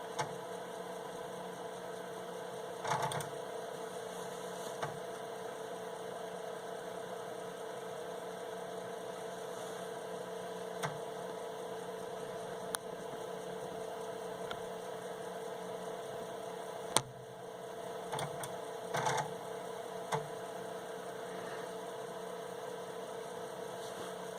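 A 1981 Intertec Superbrain computer runs the LASM assembler on a build of Kermit-80, giving off a steady electrical hum with drive whir and a few faint clicks and ticks under it. Nobody speaks.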